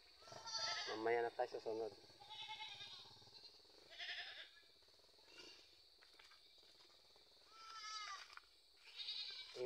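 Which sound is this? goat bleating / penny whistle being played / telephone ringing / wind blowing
goat bleating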